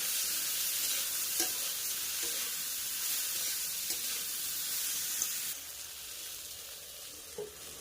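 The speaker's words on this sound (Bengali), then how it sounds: "এবার ঢ্যাঁড়সগুলোকে একটু ভাজা করে নেব।" Chopped okra with salt and turmeric fries in a pan with a bright, continuous sizzle, broken by a few soft stirring knocks, then drops to a quieter hiss near the end.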